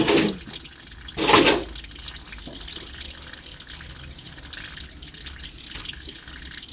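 Water draining from a bus engine being converted into a motorhome, a thin steady trickle running throughout, with a louder splashing gush near the start, close to the microphone and with no talk.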